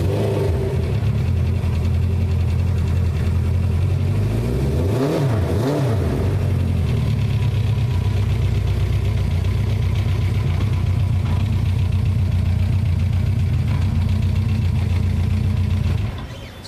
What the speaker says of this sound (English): 4 carburetors, 4 cylinders, and this is how it sounds.